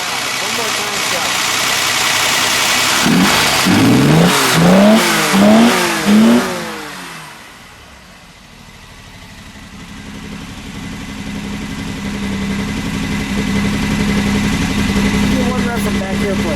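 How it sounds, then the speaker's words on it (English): A 1962 Fiat Abarth 2300 S coupe engine revs sharply several times in quick succession, loud and close, then drops back to a low idle hum that lingers. "Very free revving engine. That is a great sound."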